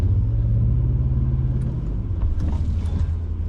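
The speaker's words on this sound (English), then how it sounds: "So I'm gonna left foot brake it right here just to get over." All-wheel-drive car on an off-road rock trail, engine rumbling low and close as it strains over a rock obstacle, with creaks and knocks from the chassis and the engine load easing toward the end.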